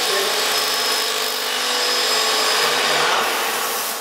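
A Graco Magnum X7 airless paint sprayer gun is being cleaned out, giving a loud, steady hissing spray that runs continuously for the full length and fades slightly at the end.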